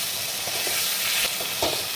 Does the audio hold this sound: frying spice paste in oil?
yes